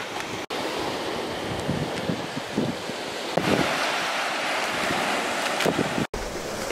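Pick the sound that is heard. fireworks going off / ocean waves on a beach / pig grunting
ocean waves on a beach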